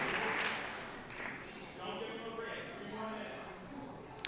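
Applause from the crowd at a grappling event, a steady wash of clapping that stays even throughout, heard somewhat distant beneath a commentator talking.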